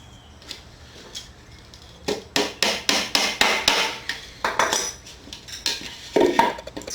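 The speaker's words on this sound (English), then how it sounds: "I've just got a whole lot of hammering to do to get all the hardware in place." Small brads are hammered into wooden tansu hardware: a quick run of a dozen or so sharp metallic taps in an uneven rhythm, close and loud, after a few softer knocks.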